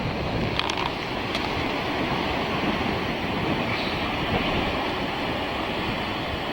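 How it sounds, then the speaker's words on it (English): Large Atlantic surf waves breaking on the European coast in Spain, a dense, steady roar of crashing water with wind buffeting the microphone, loud and continuous throughout. "Obviously the waves here in on the European coast of the Atlantic are much bigger"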